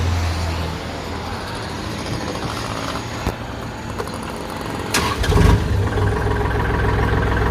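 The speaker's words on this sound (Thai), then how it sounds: "เดี๋ยวเราลองมาสตาร์ทเครื่องยนต์กัน" A steady engine rumble runs throughout, then a loud burst around five seconds as a 2019 Kubota L3218 tractor's diesel engine turns over and catches, settling into a running drone.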